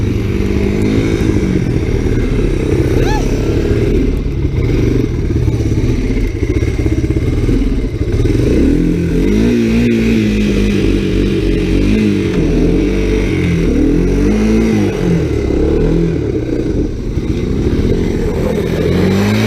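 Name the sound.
three-wheeler ATC being ridden in snow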